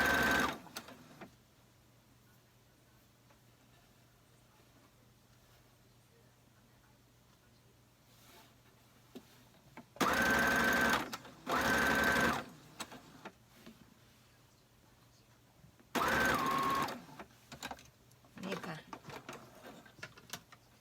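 A sewing machine stitches a dress in several short bursts, one around 10–11 s, another near 12 s and a third around 16 s, separated by quieter stretches with faint handling sounds.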